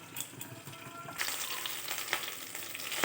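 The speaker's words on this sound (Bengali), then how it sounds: "বাকি মাছগুলো আবার ভেজে নেব" Chitri fish frying over high heat in a covered pan, a close, steady crackling sizzle that swells sharply after a quieter start and keeps up without pause.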